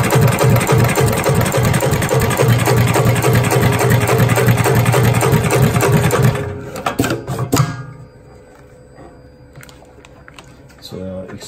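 A sewing machine stitches through three tough layers of bio rope with a fast, loud, steady mechanical rattle that stops partway, leaving a few clunks and quiet handling noise, and a voice speaks over it.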